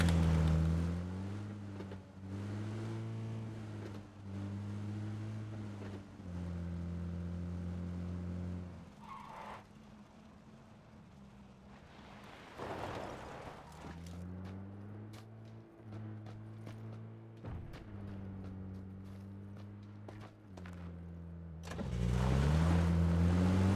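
A vehicle engine in the battle royale game PUBG, droning steadily with strong low harmonic bands that shift in pitch as it revs and changes speed, dropping out briefly mid-clip before returning loud and close.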